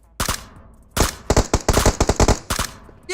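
Automatic gunfire in PUBG Mobile: several separate loud bursts of rapid shots, close and sharp, with short pauses between volleys and no talking.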